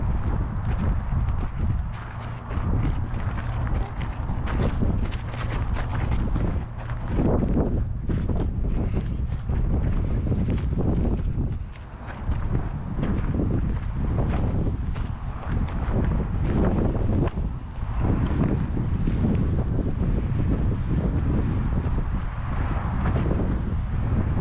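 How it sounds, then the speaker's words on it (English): Strong wind buffets the microphone on a hilltop at the Marin Headlands, a loud, rough roar that swells and dips in gusts for the whole stretch, with a few brief lulls. "It's windy"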